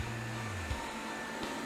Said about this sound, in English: the RoboRock Q8 Max Robot Vacuum and Mop